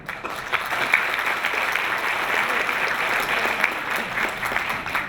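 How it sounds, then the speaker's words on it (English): A large audience claps steadily and loudly throughout, a dense, sustained wash of applause with no break. "So please welcome him with a big warm round of applause"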